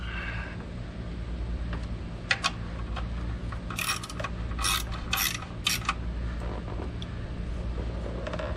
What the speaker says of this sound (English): And then we'll take our little 1/4 drive ratchet